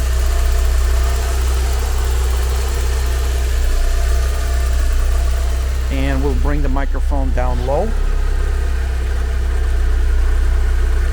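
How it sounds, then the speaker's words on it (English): A 1990 Porsche 944 S2 Cabriolet engine idles steadily up close with a low, continuous rumble and light injector ticking, while someone talks briefly over it midway. "the only ticking we can hear is from the injectors"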